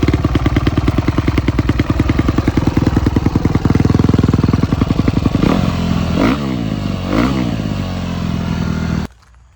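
A Honda CRF 250R dirt bike with dual exhaust idles loudly up close, its rapid, even firing broken by several sharp throttle blips and revs before the engine cuts off abruptly.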